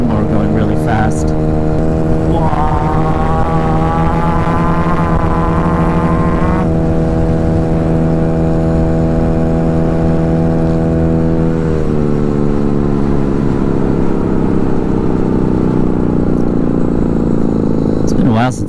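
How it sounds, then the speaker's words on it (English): A Honda Ruckus scooter with a new GET engine drones loudly and steadily while riding at night, its pitch rising, holding, then dropping to a lower steady hum. "Still sounds like a lawnmower going really fast."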